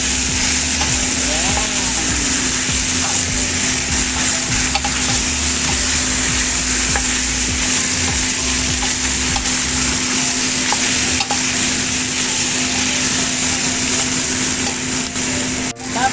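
Chicken feet and potatoes fry together in a pan for adobo, giving a steady, loud, close sizzle that runs without a break, with occasional stirring scrapes and a constant low hum underneath.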